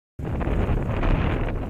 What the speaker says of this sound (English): It's getting windy out.